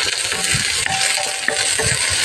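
Garlic sizzles and crackles in a hot pan for adobong pusit, a steady bright frying hiss with small stirring clinks and no voices.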